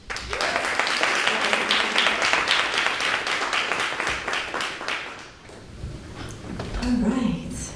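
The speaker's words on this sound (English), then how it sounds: "One more round of applause." Audience applause at a talk, a thick wash of many clapping hands that holds for about five seconds and then thins out, with a voice speaking over the fading claps near the end.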